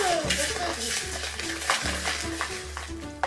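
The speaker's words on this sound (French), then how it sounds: "Alors, tu mélanges le beurre et le sucre." Butter and sugar being mixed by hand in a bowl, with a utensil scraping and clicking in a quick repeating rhythm, close and fairly quiet, with brief voices in the background.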